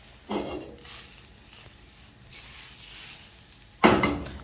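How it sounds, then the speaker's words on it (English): Oil and butter sautéing in a pan, a soft, faint sizzle with scattered clinks of a utensil against cookware and a louder scrape or clatter near the end. "I'm going to place in my oil and my butter. So I want to saute it."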